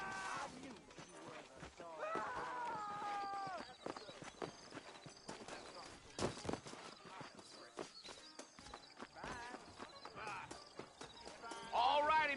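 Steady clip-clop of horse hooves walking in the video game Red Dead Redemption, with a horse whinnying and neighing at moments, and voices talking over it.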